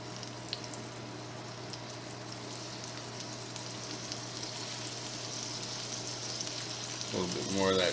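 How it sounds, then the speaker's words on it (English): Shrimp sizzle seasoned side down in a 12-inch cast iron skillet, giving a steady, moderately loud frying hiss with a low hum underneath and a brief louder burst near the end. "Then I'm going to place my shrimp in there with the seasoned side down"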